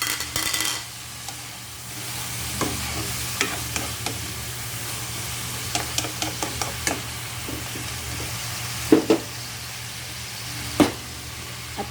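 Shrimp sautés in a pan with a constant crackling sizzle, punctuated by scattered clinks and scrapes of stirring, a couple of louder knocks near the end, and no talking.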